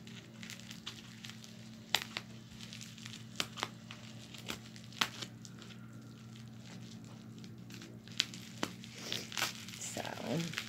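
A package is opened with scissors, with soft crinkling, tearing and scattered sharp snips and clicks, close and quiet over a low steady hum, ending in louder rustling.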